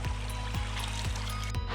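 A series of small waterfalls on a rushing, clear stream beside a descending rocky trail, a constant close wash of water under evenly spaced footsteps.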